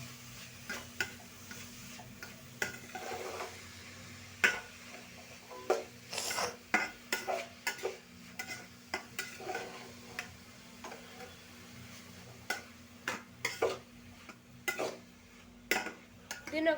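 A spoon stirring carrot rice with Maggi noodles in a pan, giving close, irregular metallic clinks and scrapes that repeat steadily over a soft background hum.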